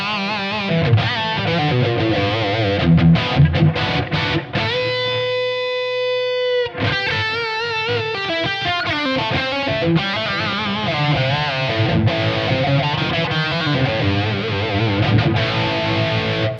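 Electric guitar through a Kemper amp rig plays steadily and loud, its notes echoing with delay and washed in reverb so each phrase trails and overlaps the next.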